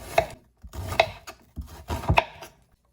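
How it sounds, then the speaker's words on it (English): A knife chops through half an onion on a board, four or five distinct close, crisp cuts spaced about half a second apart, alone without talk. "we're gonna chop off half of an onion"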